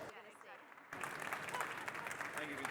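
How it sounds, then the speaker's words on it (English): Audience applause at a Bett education event welcoming a speaker to the stage: a loud, dense burst of clapping that begins suddenly about a second in and holds steady to the end, following a quieter stretch with a voice. "let's have a warm Bett round of applause for Vincent."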